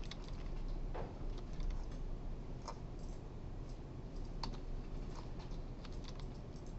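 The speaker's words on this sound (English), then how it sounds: "hold the blue function key down while pressing the insert print screen button" Fingers type on a new computer keyboard with a steady patter of light key clicks, a few louder strokes standing out, close and without talk.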